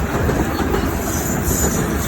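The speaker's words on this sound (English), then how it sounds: "There's a choo-choo train going by." A train rolls past on Long Island suburban tracks, a steady loud rush of wheels and rail noise with rhythmic clatter filling the whole stretch.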